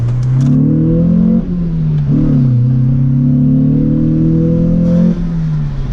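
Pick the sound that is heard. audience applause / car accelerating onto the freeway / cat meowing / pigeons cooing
car accelerating onto the freeway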